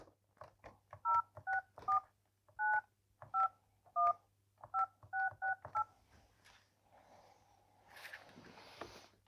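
A mayor in Montluel dials a telephone to call a person, a string of clear two-tone keypad beeps in quick bursts, followed by faint ringing and line noise.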